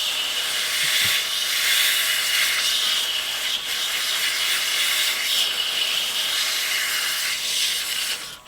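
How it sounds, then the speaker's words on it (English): Sandpaper at 120 grit rubbing against a spinning elm lidded box on a wood lathe, a steady close-up hiss with lathe hum throughout, no pauses. "Sanding at 120 grit here, and there's absolutely no visible dust"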